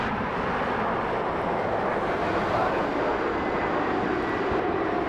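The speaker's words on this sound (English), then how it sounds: "This is a Bombardier Global 5500, a very fancy business jet." A Bombardier Global 5500 business jet at an airport, a continuous broadband jet engine roar heard from a moderate distance, steady and fairly quiet throughout, with no one speaking.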